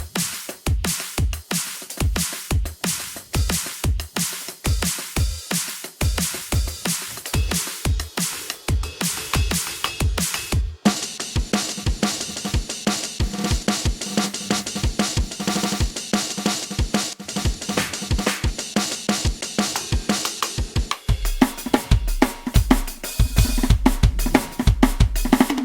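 A punchy electronic snare drum with a thickened transient hits repeatedly in a steady rhythm, each strike thick and followed by a wash of reverb, with denser patterns later on.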